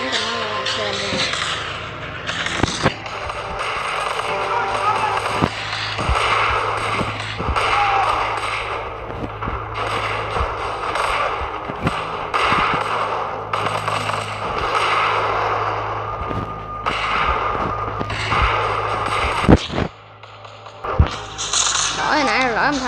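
Sharp gunshots ring out in repeated bursts and single cracks in a World War II D-Day battle video game, over steady background battle noise, while someone talks throughout.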